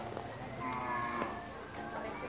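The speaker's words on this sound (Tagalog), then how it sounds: "Yan, yung mga kambing natin." Goats on a farm that raises Anglo-Nubian and Boer goats give a drawn-out, wavering bleat near the middle, over a steady bed of farmyard background noise with no talking.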